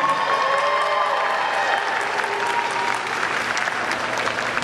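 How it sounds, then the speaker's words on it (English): A Fan Expo Dallas crowd applauds loudly as Candace Payne, known as Chewbacca Mom, walks onstage. Dense, continuous clapping fills the hall with a faint edge of crowd noise and no speech over it. "Huge round of applause for Candace Payne,"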